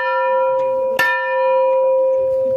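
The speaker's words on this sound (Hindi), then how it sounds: "मंदिर का मेन गेट है और घंटी भी है। चलते हैं बजाते हैं उसका साउंड आप लोगों को सुनाते हैं।" A temple bell at a temple's main gate in Nepal keeps ringing with a bright sustained tone, then is struck again sharply partway through and resonates on, close by with no talking.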